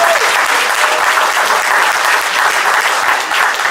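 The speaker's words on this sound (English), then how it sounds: "they deserve a hand of applause. Please, let's put our hands together." An audience gathered in Minnesota to hear the Ghanaian ambassador to the United States claps loudly and continuously, a dense and even roar of applause with no talking over it.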